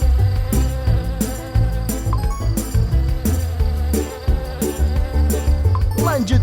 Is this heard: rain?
no